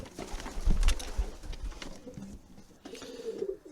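Racing pigeons, including rarer-coloured cocks, coo in a loft on an allotment, with soft throaty calls rising and falling over a few seconds amid light rustling and movement nearby.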